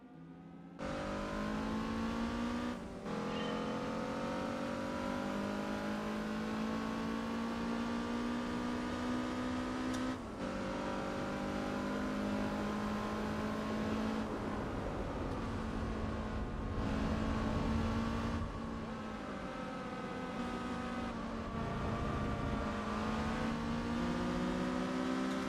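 A Nissan S14 engine in Gran Turismo 4, revving and holding a droning, harmonic-rich note that climbs and dips with gear changes and brief cuts, steady and alone throughout.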